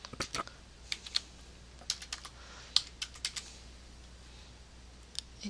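Scattered clicks of typing on a computer keyboard come close and fairly quiet, in short irregular bursts of keystrokes separated by pauses.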